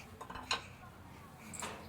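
A metal kadhai (wok) is set down on a home kitchen gas stove, making one sharp clank near the middle, with faint kitchen clatter around it.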